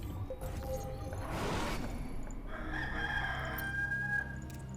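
A rooster crows loudly in the Warcraft 3 Evolution mod, a long drawn-out cock-a-doodle-doo over steady game background noise, with no talking.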